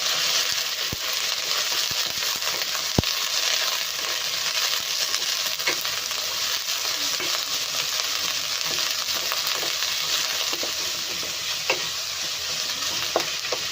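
Shredded cabbage stir-frying in a hot pan for homemade noodles, a steady dense sizzle running throughout with occasional scrapes and clicks of a spatula, close and alone without talk.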